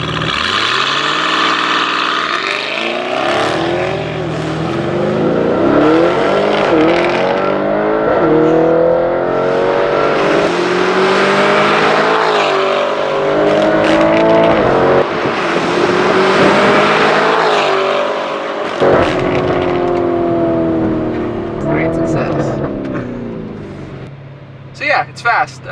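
An 800 hp RYFT-tuned Lamborghini Urus launches hard under launch control, its engine roaring loud and close through rising, shifting gears over about 25 seconds, with a voice talking over it.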